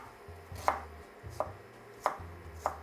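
A knife cuts ginger into chunks on a board in four evenly spaced, crisp chops, close and clear against near silence, with no voices.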